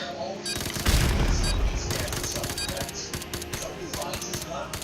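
MP5 submachine gun in a video game, a rapid stream of sharp close shots fired in quick bursts until the 30-round magazine empties, loud and dense over game ambience.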